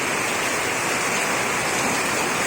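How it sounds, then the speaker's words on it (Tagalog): A dense, loud, unbroken hiss of heavy rain pouring down, steady throughout with no voices. "Napakalakas na naman ang ulan dito sa amin."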